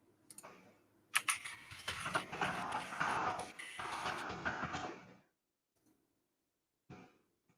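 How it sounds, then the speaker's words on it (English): Rapid clatter of typing on a noisy computer keyboard, close and continuous for about four seconds, then a couple of isolated key taps after a pause. "Apologize now for my noisy keyboard"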